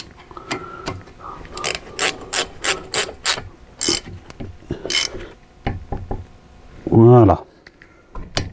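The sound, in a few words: ratchet tightening brake caliper bolts on Dodge Nitro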